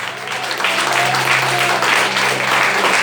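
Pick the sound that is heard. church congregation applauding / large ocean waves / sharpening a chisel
church congregation applauding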